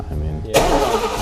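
Big block L78 Camaro engine catching after a low cranking rumble, bursting into a loud, rough idle within a second, close up.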